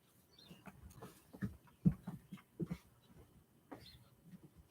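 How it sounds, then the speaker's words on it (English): A dog whimpering and whining outside a door on a cold day, a string of soft, uneven high whines and small yelps, faint and close, with no talking. "I wish that dog would come in."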